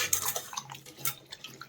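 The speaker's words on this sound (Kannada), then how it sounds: "ಇದನ್ನೆಲ್ಲ ಕ್ಲೀನಾಗಿ ತೊಳ್ಕೊಂಡು" Cut potatoes are rinsed in a bowl of water, making brief close splashes and light clinks against the bowl in a quick, uneven rhythm.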